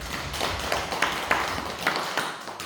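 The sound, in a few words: congregation applause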